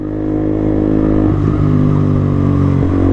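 A big-displacement motorcycle engine revs loud and close during a first A2-licence riding lesson, a steady throbbing drone that swells slightly midway with no talking.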